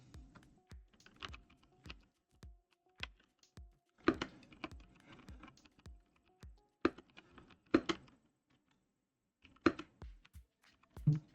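Keys clacking on a computer keyboard in irregular bursts, with short pauses between clusters of taps, close and fairly crisp.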